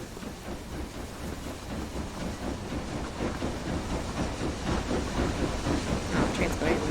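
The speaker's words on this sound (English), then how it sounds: "the train's going in the wrong direction" A train in the video game Book of Travels rumbles along steadily with a low, continuous rolling noise and hiss, moderately loud and unbroken, with faint speech underneath.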